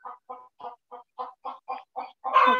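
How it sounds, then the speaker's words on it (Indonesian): A chicken clucks in a steady series of about eight short, evenly spaced clucks, close and clear against silence, ending in a louder, longer squawk. "Udah dengar suara ayam nggak?"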